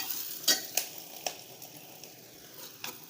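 Grated coconut and onion roast in a pan, a soft low sizzle broken by several sharp clicks and scrapes of a spoon stirring against the pan, close and fairly quiet.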